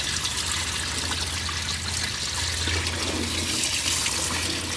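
Motor oil drains from a Ford F-150 during an oil change, pouring and splashing in a steady, dense liquid rush close by, with no talking over it.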